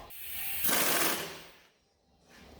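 A hand ratchet on a Dodge Nitro strut bolt gives a quick burst of rapid clicking close up, pauses briefly, then clicks again.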